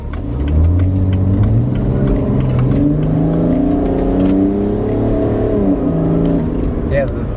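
BMW E90 335d diesel accelerating hard, a loud, steady engine drone rising in pitch throughout, with the tires struggling for grip.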